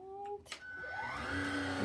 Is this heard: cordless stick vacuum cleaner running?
yes